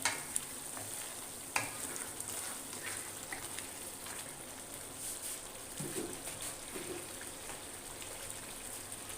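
Red chili powder and salt masala fry in a pan with a soft, continuous crackling sizzle, punctuated by a few light clicks and stirring scrapes early on and near the sixth second.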